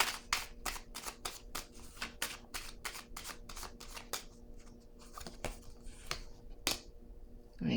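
Oracle cards get shuffled by hand, a quick run of crisp riffling snaps in a regular rhythm for about four seconds, then a few sparser flicks, close and quiet with no voices.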